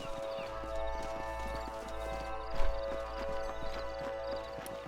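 Horse hooves clip-clop steadily in Red Dead Redemption, several horses moving at a walk close by, with a brief louder thump midway and a faint whinny over a constant low game rumble and musical tones.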